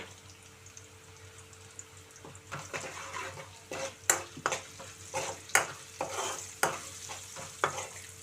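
Onions fry in a pan with turmeric for an okra fry, giving a soft, continuous sizzle broken by a spoon's sharp, repeated clinks and scrapes against the pan.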